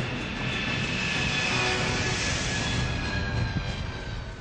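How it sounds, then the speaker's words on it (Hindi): Indian Air Force Hercules transport aircraft engines, a loud continuous propeller drone with a steady high whine on top, close and sustained with no voices. "ये हरक्यूलिस है, वो हरक्यूलिस जिसकी लैंडिंग और टेक ऑफ से दुनिया दहल जाती है।"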